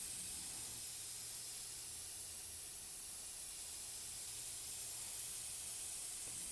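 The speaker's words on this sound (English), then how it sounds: "a highly atomized application at a distance." A fine atomized dye spray hisses steadily onto a sport cloth seat cover, a soft, even airy rush held from a distance without pause, quiet and uninterrupted.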